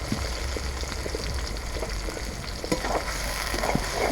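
Whole garam masala and sliced onion fry in oil ahead of cooking liver, a dense, close crackling sizzle with occasional stirring scrapes and no voices.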